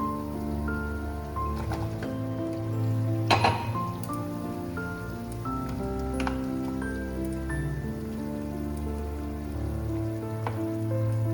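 Boiling water in a pan for a sour fish roe curry, a steady bubbling simmer with scattered pops and a brief louder splash midway, close and continuous.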